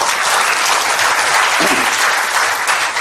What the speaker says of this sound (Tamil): உங்க கைத்தட்டுகள் அதை உறுதிப்படுத்தட்டும்